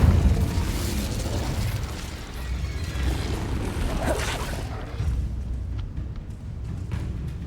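Incendio fire spell in Hogwarts Legacy: a loud roaring whoosh of flames with crackling bursts, sustained for several seconds, then fading into a quieter rumble.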